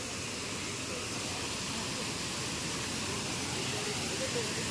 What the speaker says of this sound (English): this is the artificial waterfall.